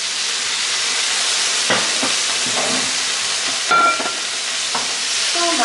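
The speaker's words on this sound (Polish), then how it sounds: "Podlejemy szklanką wody i będziemy dusić 20 minut pod przykryciem." A Greek-style fish sauce of vegetables and a glass of water simmers under a lid, giving a steady, even sizzling hiss with a few faint clinks, with no talking.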